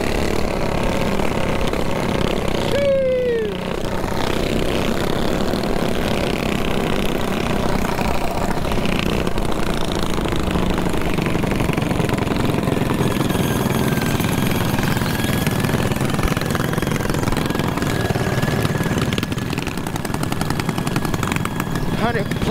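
Several mini bike engines buzz and rev loudly on a group ride-out through downtown Los Angeles. The drone is constant and close, with a brief pitch sweep early on and a rider talking over it.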